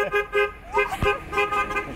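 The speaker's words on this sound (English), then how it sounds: "I wonder if this trucker's gonna honk at me." A truck horn sounds in repeated honks, close and loud, several short blasts in a row with no talking.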